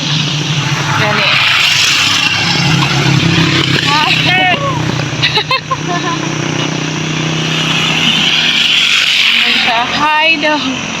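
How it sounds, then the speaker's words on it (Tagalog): Large trucks rolling past on a roadside during a walk and jog, a steady loud traffic roar throughout with someone talking over it. "Oh, dago kay nga mga truck."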